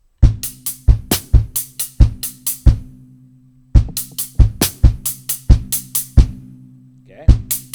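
A drum kit plays a repeating beat in a lesson setting, with punchy hits ringing close and loud in an even rhythm, a brief pause partway through before the pattern resumes.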